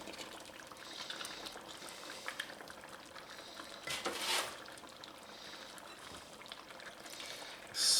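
A 14.5-ounce can of diced tomatoes and their juice goes into a pot, a brief wet pouring splash rising over a soft bubbling simmer, with no voices.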